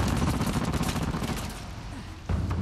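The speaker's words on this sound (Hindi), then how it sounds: "खतरनाक गोलियां मार रहा है" Rapid gunfire in the action game Uncharted: The Lost Legacy, a dense, loud, continuous burst of overlapping shots with a short lull before firing resumes.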